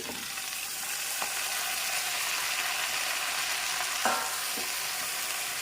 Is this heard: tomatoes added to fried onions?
yes